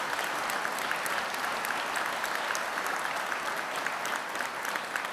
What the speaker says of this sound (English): So would you just give her a round of applause